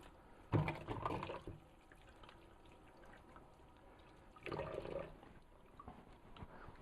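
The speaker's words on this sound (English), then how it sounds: "So I'm going to rinse off the salt because I don't want it to be too salty." Tap water running over salted, soaked rockfish as it is rinsed, two short bursts of splashing and gurgling a few seconds apart, close and moderately loud against a quiet kitchen background.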